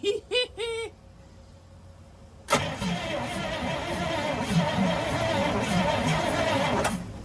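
A 1955 Buick with a Fireball V8, engine cranking without fuel, a steady churning starter drone that begins abruptly after a few short honk-like tones and runs on evenly, close and fairly loud, without catching.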